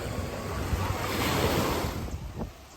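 Ocean waves and surf washing steadily alongside the Carnival Pride cruise ship, a continuous rushing wash with heavy wind buffeting the microphone throughout.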